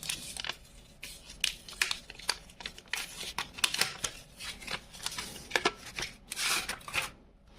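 Packaging of an Anker Prime charger (250W, six-port GaN) being opened, with close crinkling, rustling and sharp tearing and snapping bursts coming in quick irregular clusters, no voice.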